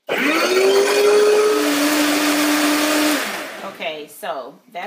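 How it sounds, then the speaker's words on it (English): A powerful blender runs loud and steady, chopping cut tomatoes for about three seconds, its motor pitch shifting downward as it churns, then cuts off and a voice follows. "They're not chopped because this blender is pretty powerful"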